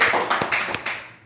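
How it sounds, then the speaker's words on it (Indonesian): Brief, close clapping from a small audience at a youth organization gathering, a few quick bursts of hand claps that fade within a second. "Boleh tepuk tangan buat Mas Didot."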